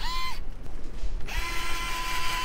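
An electric screwdriver whirs twice in quick bursts, each with a steady motor whine, as screws are driven back in while a Samsung C433 color laser printer is reassembled.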